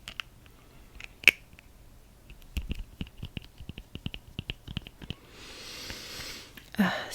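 A resin art set container is opened close to the mic with scattered soft clicks and plastic snaps, followed by a brief rustling swish near the end.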